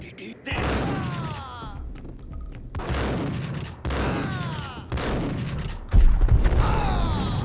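Repeated bursts of enemy gunfire in the video game Max Payne, several heavy volleys with booming impacts at roughly one-second intervals, loud and close, with someone speaking in German between shots.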